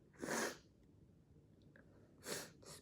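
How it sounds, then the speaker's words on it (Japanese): Two sneezes from a young Japanese woman, one near the start and another about two seconds later, each a sharp burst close to the listener, with a quiet pause between them. "めちゃくちゃくしゃみ"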